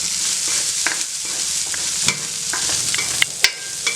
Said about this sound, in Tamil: இப்போ ரெண்டுமே தனித்தனியாக வேக வச்சு இதில் போட்டு நல்லா வதக்கிக்கலாம்.